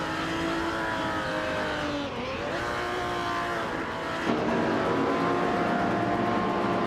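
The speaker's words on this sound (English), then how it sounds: "driving a 1969 Dodge Charger Hemi" 1969 Dodge Charger Hemi race car in a racing video game, engine note revving up and down continuously through gear shifts, loud and steady with no talk.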